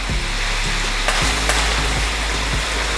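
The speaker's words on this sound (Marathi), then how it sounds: "आणि मीडियम गॅसवरती फ्राय करायचं आहे" Rice flour sev fries in oil over medium gas, a loud, dense, continuous sizzle with faint bubbling throughout and no voices.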